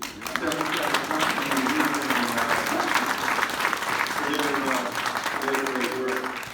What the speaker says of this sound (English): How about starting off with a nice round of applause for Tim and all the Democratic